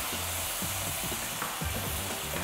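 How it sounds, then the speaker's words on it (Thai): A special homemade sauce stir-fried in a pan for purple pad thai gives a constant sizzle, with quick repeated scrapes of the spatula close by. "แล้วก็ผัดซอสไปเรื่อยๆผัดจนแบบซอสหอมเปลี่ยนเป็น"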